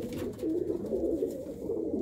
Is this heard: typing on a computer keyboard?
no